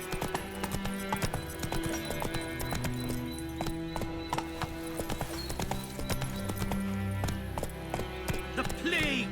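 Hooves of a horse clip-clop rapidly as it gallops in The Witcher 3 video game, a steady quick rhythm running throughout over a continuous bed of game music, with a brief neigh and some talk layered in.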